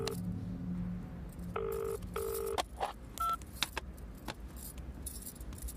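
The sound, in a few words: phone call ringing, not picked up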